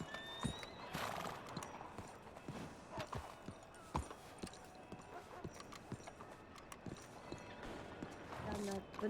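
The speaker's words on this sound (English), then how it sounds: "You're welcome to pat the horse." A horse clip-clopping at a walk, with hooves striking in an uneven rhythm and occasional snorts or whinnies; faint and close-miked, with people talking intermittently over it.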